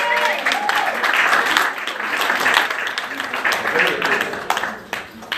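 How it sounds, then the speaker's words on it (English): A church congregation gives a sustained round of hand clapping, steady and fairly loud, with voices and scattered exclamations audible among the claps before it tapers off. "Give yourself a hand clap."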